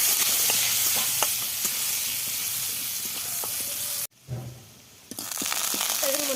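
Potato pieces fry in oil with a pinch of turmeric in a pan, a loud steady sizzle with occasional stirring clicks that cuts out briefly and then resumes.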